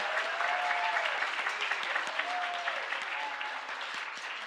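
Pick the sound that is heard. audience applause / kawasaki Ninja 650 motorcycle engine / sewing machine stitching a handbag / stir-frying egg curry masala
audience applause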